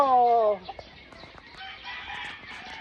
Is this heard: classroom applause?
no